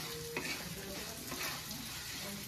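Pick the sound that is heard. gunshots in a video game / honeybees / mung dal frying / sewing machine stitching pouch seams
mung dal frying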